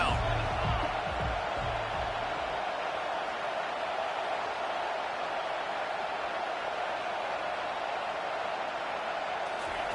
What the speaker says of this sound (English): These fans are going absolutely nuts.